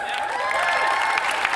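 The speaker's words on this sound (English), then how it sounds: "that's worth a round of applause" Conference audience applauding at Canva Create 2025, a short, bright burst of many hands clapping together in a large hall.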